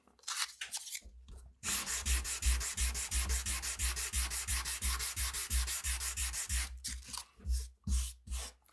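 Steady back-and-forth strokes with 400-grit sandpaper rasp rhythmically on wood for several seconds, close up and even, with a few scuffs before and after.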